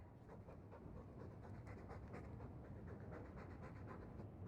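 Steady, rapid dog panting from Dragon Age 2 fills the whole stretch, a close, breathy rhythm of quick huffs with no pauses and no voices over it.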